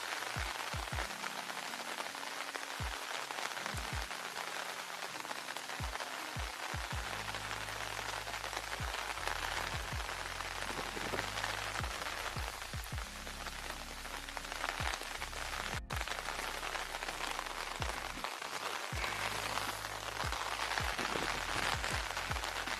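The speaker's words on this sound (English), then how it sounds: "I'll see if I can turn off the music and you can just hear the rain." Heavy rain falls steadily outdoors in a dense, continuous hiss, with sharp heavier drops and low thumps breaking through at irregular moments throughout.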